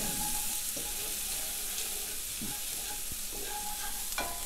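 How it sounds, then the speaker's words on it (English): Sliced shallot sautés in a hot pan, giving a steady close sizzle broken by a few soft scrapes and stirring clicks. "Sauté those. Until they get nice and soft. Until they just start to brown."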